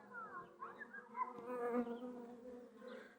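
Carniolan honey bees buzz steadily at close range, a droning hum that wavers in pitch as individual bees move about.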